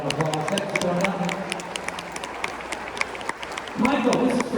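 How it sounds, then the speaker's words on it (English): An audience applauds volunteers at a college stage show, broad clapping running under talk throughout and swelling near the end. "Give those volunteers a round of applause."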